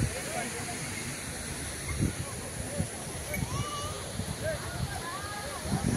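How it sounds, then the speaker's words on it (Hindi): Patalpani waterfall near Indore after rain, a steady rushing roar of falling water heard at some distance, with people talking over it. "देखिए खूबसूरत व्यू पाताल पानी वाटरफॉल का।"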